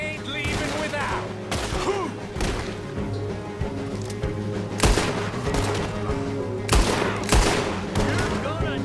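Gunfire in the Western video game Red Dead Redemption 2: a loud, dense fusillade of overlapping rifle and pistol shots with booming impacts, cracking repeatedly throughout while voices shout in the background.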